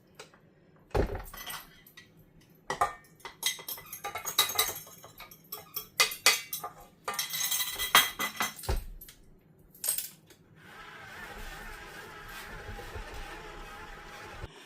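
Key lime cake batter with eggs is mixed by hand in a bowl, giving irregular clinks and knocks of utensil against the bowl, followed by a steadier soft scraping, nearby and without speech.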